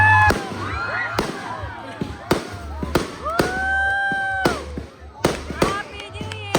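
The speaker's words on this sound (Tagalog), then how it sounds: "Fireworks sila." New Year fireworks go off in a quick series of sharp bangs, with whistling and crackling between them. People's voices can be heard under the bursts.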